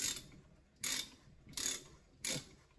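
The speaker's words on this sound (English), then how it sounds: "kind of hold the hose and push down on the wrench" A ratchet wrench tightens a hose fitting during a 14-bolt rear steer axle build, giving four short bursts of close, crisp ratcheting clicks with brief pauses between them and no voices.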